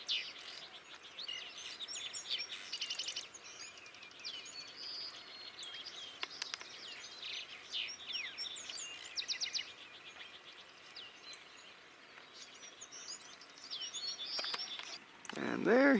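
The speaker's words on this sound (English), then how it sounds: "the elusive black-throated sparrow." A black-throated sparrow sings a run of thin, buzzy trills and chirps, repeated on and off over a quiet outdoor background.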